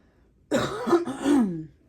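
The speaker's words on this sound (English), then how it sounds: "I hate to cough" A single close, throaty cough in two quick parts, loud against near silence before and after.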